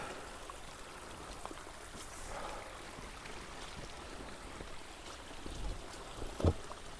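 Big Shoal Creek on the Greenfield Trail at Mount Magazine State Park, Arkansas, flows with a steady low wash of water during a crossing, a faint continuous burble with a brief louder splash near the end.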